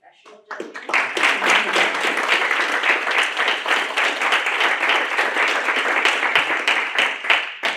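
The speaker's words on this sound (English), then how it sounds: "can we get a round of applause to the judges who are doing the like professional judging" Audience applause for the judges at a student research lightning talks event: a crowd of dense clapping swells in quickly and holds steady and loud for several seconds, with faint voices mixed in.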